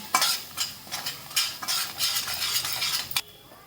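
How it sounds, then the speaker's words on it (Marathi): Semolina roasts in a pan for rava kheer while a spoon stirs it briskly, making rhythmic scraping and rattling strokes over a soft sizzle, close and fairly loud. "रवा पण असा खमंग असा परतून घ्यायचा चांगला भाजून घ्यायचा"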